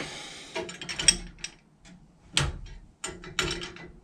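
A hand wrench ratchets on a part of an RV oven whose pilot light won't stay lit. It makes close, intermittent clicking and rattling bursts, with a few sharper metallic knocks between quieter stretches.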